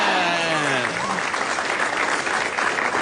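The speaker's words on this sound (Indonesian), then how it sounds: "tepuk tangan buat Bintang" Audience applause at a stand-up comedy show, dense, loud clapping from a crowd that carries on steadily while a voice speaks briefly at the start.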